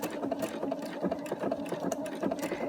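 A sewing machine stitching fabric, with a steady rapid mechanical chatter and whir running throughout, close and fairly loud with no voices.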